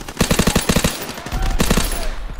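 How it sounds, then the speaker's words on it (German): Rapid bursts of gunfire in a World War 2 video game, several quick shots in short volleys with a pause in between, loud and close. "da war doch ein Schuss gerade"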